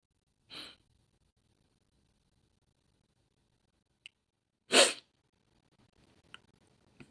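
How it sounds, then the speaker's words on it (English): Two abrupt, breathy sneezes, a few seconds apart, ring out close up against near silence. "I'm about to sneeze."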